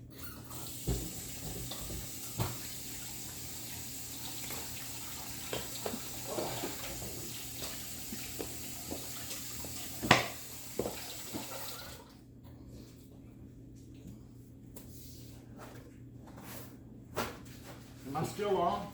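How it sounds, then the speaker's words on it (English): Tap water running steadily in a kitchen sink during hand washing, with occasional clunks and splashes. The flow stops partway through and scattered handling sounds follow. "let me wash my hands real quick."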